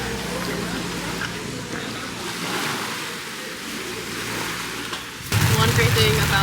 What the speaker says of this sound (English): there's a little sun shower right now, and we're safe under here